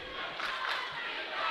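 Basketball home bench and crowd cheering and shouting in a gym, a continuous faint roar of many voices without clear breaks.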